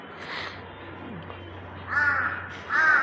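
Crows caw while being fed, a single harsh call early, then two louder caws near the end, close by against a quiet outdoor background.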